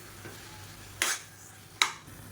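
Ground tomato paste fries in oil for a kulambu with a faint, steady sizzle, broken by two sharp scraping strokes of a spoon stirring the pan.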